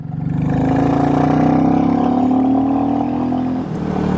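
Royal Enfield Classic 350 motorcycle with a heel shifter, its single-cylinder engine growling steadily and loud up close, the note holding then dipping briefly near the end.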